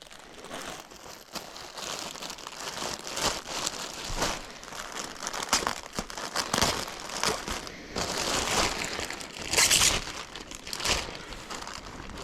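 Tape peeled and packaging crinkled while unboxing an original Power Rangers Wild Force White Ranger costume prop, a steady run of close, rustling crackles and tearing scrapes over about twelve seconds with no talk.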